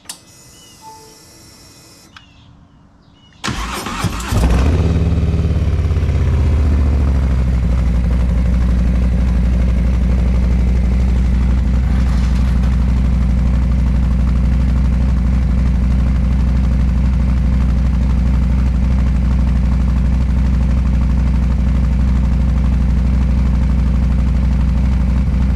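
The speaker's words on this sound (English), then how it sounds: "So anyway, I put some Vance and Hines on it, and I'll do a cold startup" A Harley-Davidson M8 with Vance and Hines exhaust is cold-started: brief cranking, then the engine catches and settles into a loud, steady, deep idle rumble that carries on alone without talk.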